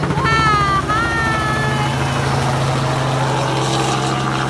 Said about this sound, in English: That's actually a helicopter tour of the Great Wall.